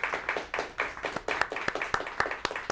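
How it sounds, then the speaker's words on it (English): A television studio audience claps in a brief, fairly close round of applause, individual hand claps distinct and uneven, with no voices over it. "A round of applause."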